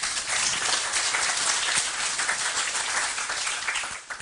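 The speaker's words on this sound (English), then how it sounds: "So please give a warm applause for the University of Leiden." A debate audience warmly applauds presenters from the University of Leiden at a European election event, steady dense clapping with a rain-like texture lasting about four seconds, then tapering off.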